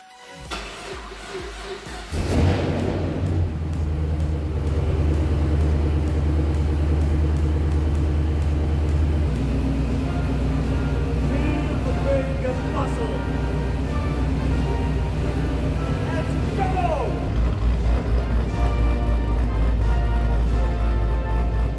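A powerful LS3-based car engine fires up after a short pause and keeps roaring, a loud, deep, steady rumble with occasional revs, close by.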